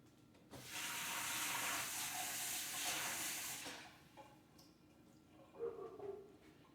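Water is sprinkled from a small bowl over broccoli, a soft steady splashing hiss lasting about three seconds, followed by faint clinks and handling noises.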